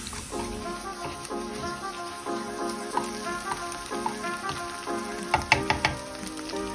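Eggs fry gently in a pan on low heat, a soft steady sizzle with scattered pops and crackles that grow a little sharper near the end, no talk.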